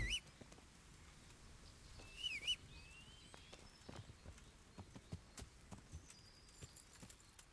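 Horse hooves clip-clop faintly in Kingdom Come: Deliverance, a soft irregular patter of steps under quiet game ambience with a few bird-like chirps.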